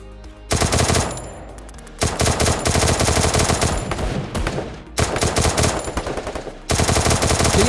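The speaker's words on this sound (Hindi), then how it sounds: "अब मैं खुद थॉमसन चलाता हूं।" A Thompson gun fires in the video game Free Fire in loud, rapid automatic bursts. Brief pauses split the bursts, which fill nearly eight seconds without any talking.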